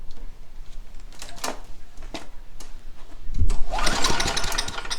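A lawnmower engine, just refitted with a swapped deck and a clamped fuel line, sputters through a few cranking bursts, then catches and roars into loud, steady running close by.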